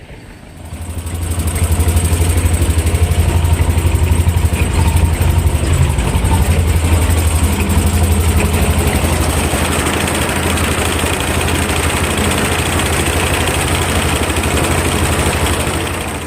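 A T-25 tractor engine runs steadily while mowing hay in a field, a loud, continuous low diesel drone that rises after the first second and holds a constant rumble throughout, with no voices.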